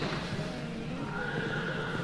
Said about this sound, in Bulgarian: виждате колко успешно коня с какъв аванс скача